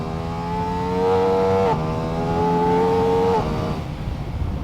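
A 2023 Ducati Diavel V4 motorcycle accelerating hard on an open road, its engine climbing in pitch through two gear changes with a brief drop between them, loud and close throughout.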